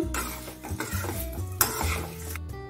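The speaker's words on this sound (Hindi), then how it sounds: "अब हम इसमें जो पोहा फ्राई किए थे उसे डाल देते हैं और इसे भी हम कर लेते हैं मिक्स" Fried poha being mixed with chivda masala in a pan, with quick scraping and clattering of a spoon against metal in an irregular rhythm, close and fairly loud.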